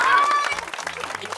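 Audience applause at an outdoor food and football goal challenge event, a short burst of brisk clapping from a crowd, loud and close, with a voice speaking over it.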